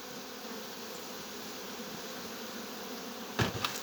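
Honey bees buzz steadily around a weak beehive checked before winter, a continuous faint hum with a brief louder burst of activity near the end.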